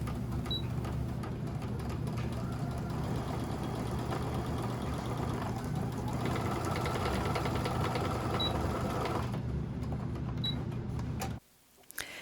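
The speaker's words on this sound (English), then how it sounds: "Then we're going to start sewing it on one end, starting on the folded end at a diagonal." A sewing machine stitches a fabric scrunchie, starting at the folded end on a diagonal, running in one steady, close whir that continues with no pauses before stopping abruptly near the end.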